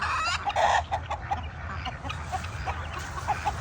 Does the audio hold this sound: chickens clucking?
yes